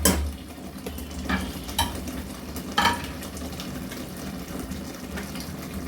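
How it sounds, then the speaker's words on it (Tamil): Cooked brinjal is mashed in a pan for kathirikai kosthu. Soft scraping and squelching is broken by a few louder clinks of a utensil against the pan, with no voices. "இந்த மாதிரி நல்லா ஸ்மாஷ் பண்ணிவிடுங்க"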